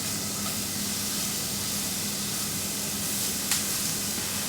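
A flipped pork chop sizzles in a hot pan, a steady close hiss of frying fat that stays even throughout, with one brief sharper crackle near the end.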